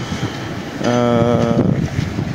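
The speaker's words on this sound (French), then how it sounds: "On a un vent de face, mais avec une mer plutôt bien agitée quand même." Strong headwind roars across the microphone on the Carnot breakwater while fishing, over the wash of a rough, choppy sea, with a brief tonal whine in the middle.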